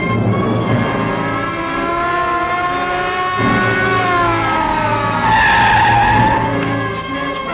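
A truck skids across a road with a long, loud tire squeal over a steady engine roar, all heard close up in a 1954 highway scene, and nobody speaking.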